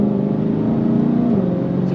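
Supercharged 5.2-litre V8 of a Ford Mustang Shelby GT500 pulls hard under acceleration, a steady loud engine drone with a pitch that climbs briefly and then drops as it shifts, with no voices.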